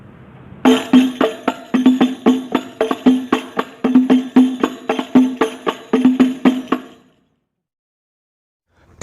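Hadroh frame drums play two basic patterns combined, a steady run of sharp hand strikes with ringing low tones, loud and close for about six seconds before stopping.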